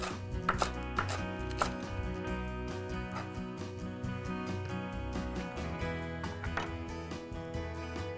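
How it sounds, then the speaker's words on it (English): Knife chopping green onion on a cutting board, quick steady rhythmic taps close up, moderately quiet, with no talking. "So I'll just chop that onion."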